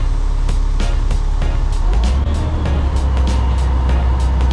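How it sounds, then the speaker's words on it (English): Cement truck pouring a garage slab, its drum spinning to discharge concrete, a loud steady low rumble with a run of rapid clacking hits and a rise in engine revs midway. "So the faster the drum spins, the faster it discharges."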